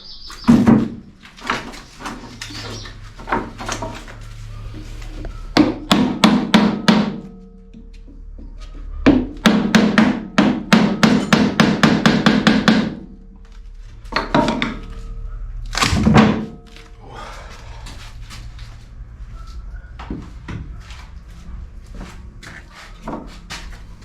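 A rubber mallet makes repeated hollow tapping thuds in quick bursts, clusters of rapid knocks separated by pauses, close and fairly loud.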